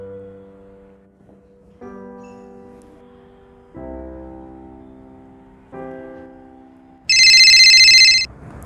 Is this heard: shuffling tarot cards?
no